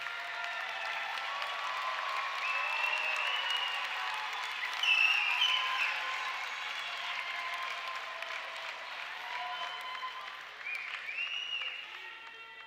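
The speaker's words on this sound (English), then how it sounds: "Why don't you look up there and applaud?" Graduates at a university commencement ceremony applaud their parents and families, a broad, sustained wash of clapping from a large crowd in a big hall that swells briefly midway and then tapers off.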